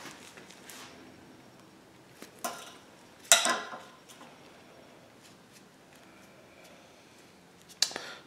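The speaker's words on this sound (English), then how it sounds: "I'm just going to cut it off with a pair of dykes." Solder wire snipped with diagonal cutters (dykes) at an engine-building bench: a few sharp, isolated clicks, the loudest near the middle and another toward the end, over a quiet room with no talking.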